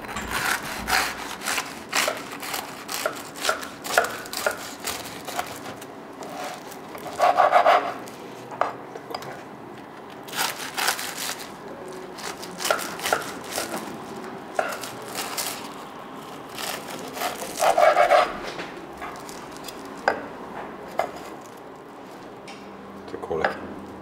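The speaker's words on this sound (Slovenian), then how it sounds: "Vedno uporabimo nož, se pravi žagico" A serrated knife saws through a pork fillet Wellington in repeated back-and-forth strokes, a rough rasping crunch of pastry with short pauses between cuts, close and fairly quiet, no one talking.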